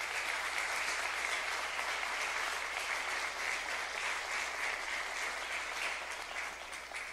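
A church congregation claps steadily for several seconds, a dense, even wash of hands heard from within the room, fairly soft and without a voice over it.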